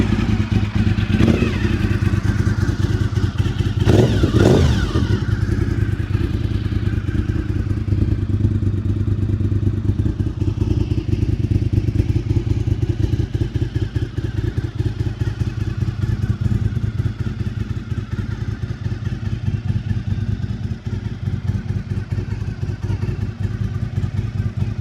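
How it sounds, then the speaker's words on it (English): A Honda RC51 motorcycle engine cranks and starts, then idles loudly with a steady lumpy rumble and a few sharp throttle blips early on, close up and alone for the whole stretch. "It's hard to have an RC51 video without doing a startup video."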